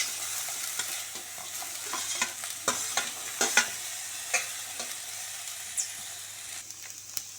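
Boiled vegetables, here broccoli and green peas, fry in a pan with pepper and cumin powder, giving a steady sizzle broken by repeated scraping stirs of a spoon, close and alone with no talk.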